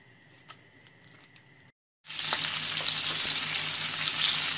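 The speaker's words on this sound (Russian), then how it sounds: "Кальмаров обжариваем с каждой стороны где-то по 3, наверное, 4 минутки" Squid frying in vegetable oil in a pan: a quiet lead-in with small clicks, a brief silence, then a loud, dense sizzle bursts in close and holds steady to the end.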